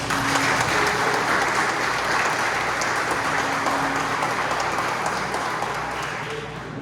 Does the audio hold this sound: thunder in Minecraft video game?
no